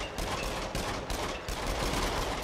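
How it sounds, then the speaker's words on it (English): Rapid gunfire from guns in the PSVR shooter Rush of Blood rattles in a dense, fairly quiet volley, with bursts of shots running together over about two seconds. "these guns shoot well"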